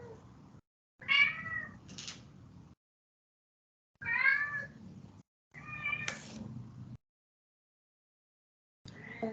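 A house cat meows indoors, several distinct drawn-out calls spaced apart with silent gaps, fairly close and clear, alone without speech.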